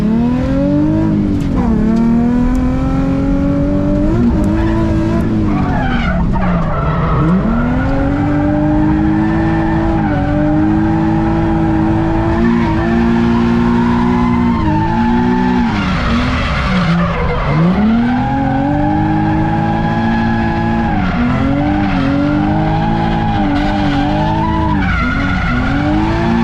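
A car drifting at a drift event at Freedom Factory, its engine revving high and rising and falling through long slides while the tires squeal loudly, a continuous close run of engine wails and skidding.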